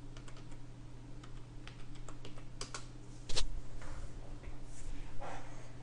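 Quick bursts of keystrokes tap out an admin password on a computer keyboard, close and fairly quiet over a low steady electrical hum, with one louder clack partway through.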